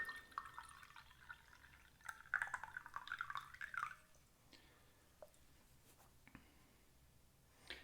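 Tea pours from a teapot into a kyusu in a light, trickling stream lasting several seconds, followed by quieter drips and small clinks.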